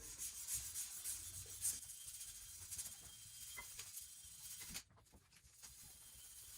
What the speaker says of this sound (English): Then we got some 400 grit sandpaper. We're just going to clean up the